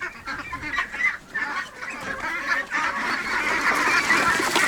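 Domestic ducks in a farmyard keep up a dense, continuous chorus of loud, overlapping quacks and honks close by, with no talking.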